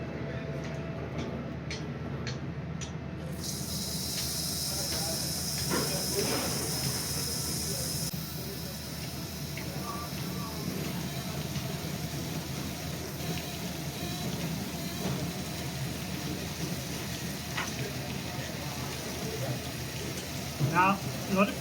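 Water running steadily as a Graco spray gun is rinsed, a continuous hiss and splash with faint ticking, while a person talks over it.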